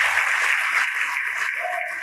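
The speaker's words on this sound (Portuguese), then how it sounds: "E vamos aplaudir ao Senhor Jesus por cada vida que está chegando." A church congregation applauds, a steady crackle of many hands clapping together for about two seconds at moderate level, with no talk over it.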